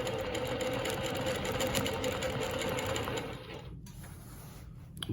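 A longarm quilting machine stitches steadily with rulers, running a Baptist fan pattern from a Fab5 fan set; a continuous close mechanical whir that drops to a quieter hum near the end with a small click.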